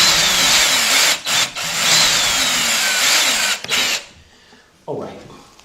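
A power drill spinning a bit against an engine part during head gasket and timing belt work on a Honda Accord, Odyssey or Acura CL, whining loudly in long runs broken by short pauses, then stopping abruptly before a clunk.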